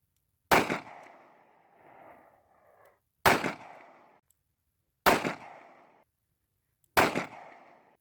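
A Smith & Wesson 38 Special revolver fires four sharp, loud shots at uneven spacing of about two seconds, each a hard crack trailing into a short outdoor echo.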